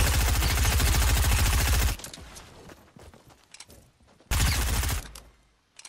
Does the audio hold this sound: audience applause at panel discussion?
no